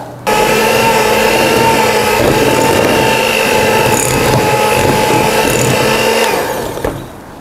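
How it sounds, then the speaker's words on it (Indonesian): Hand mixer at low speed blending cookie dough for sandwich cookies with eggs, a steady, loud motor whine running unbroken for about seven seconds before it winds down, with no talk over it. "Lanjut di mixer ya, menggunakan hand mixer."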